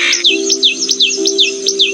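A tailorbird gives a rapid series of sharp, bright chirps, about two per second in a regular repeating rhythm, loud and close over a steady low background hum.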